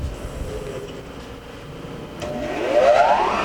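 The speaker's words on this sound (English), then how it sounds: "That's your spindle." Spindle of a Birmingham Accu II CNC vertical mill running with an R8 taper, a steady low mechanical hum that swells into a rising whine as it speeds up near the end.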